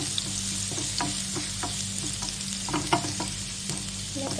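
Garlic fries in a pan with a steady, close sizzle, punctuated by light clicks and taps from stirring, and no voices.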